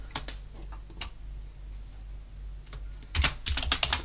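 Typing on a computer keyboard in the VIM editor while writing out a basic web page: scattered clicks at first, then a quick dense burst of keystrokes near the end, close and fairly quiet.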